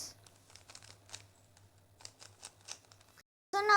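A 3x3 Rubik's cube is shuffled by hand, giving quick plastic clicks and rattling twists close up in an irregular patter, then a short silence before a brief louder burst.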